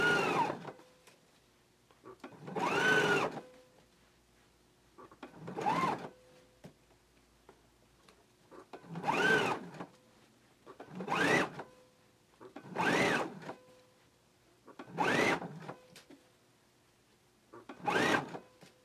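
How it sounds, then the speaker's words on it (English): A sewing machine stitches a neckband seam on a 3/8-inch seam allowance for a Simplicity 8889 garment, running in eight or nine short, loud bursts of a second or so each, separated by quiet pauses, with no talking. "we can go ahead and stitch it at 3/8 of an inch seam allowance"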